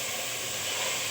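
Ginger and garlic sizzling in a hot pan, a steady close hiss with no talking.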